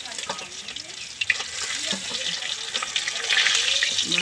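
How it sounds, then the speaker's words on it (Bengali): Pond-caught pabda fish fry in hot oil in a pan, giving a steady, dense crackling sizzle that grows slightly louder toward the end, with a faint voice underneath. "সবগুলো মাছ দেখো মরমর চরমর চরমর মরমর করছে।"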